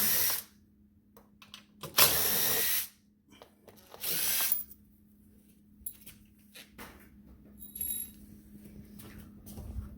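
A cordless power drill driving out T40 Torx screws during a street legal kit install whirs in two short bursts, close and loud, with quiet ratchety handling and clicks in between.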